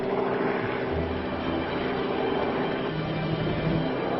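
A helicopter flies close to clouds, its engine and rotor making a loud, steady broadband roar that holds unbroken throughout.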